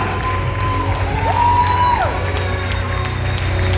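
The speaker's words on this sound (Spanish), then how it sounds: "¡Bate palma! ¡Celebra!" A church congregation claps and cheers together in a loud, steady crowd roar with whoops, while a preacher's voice rings out above the noise.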